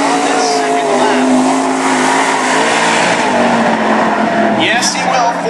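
A race car runs a qualifying lap at Cottage Grove, its engine droning steadily at speed and rising near the end, heard under a track announcer talking over it.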